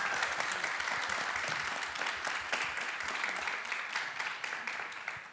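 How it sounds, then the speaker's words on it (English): Audience applause at a candidates forum in London North Centre, a steady patter of clapping from a modest crowd that holds throughout and eases slightly toward the end. "give them a round of applause"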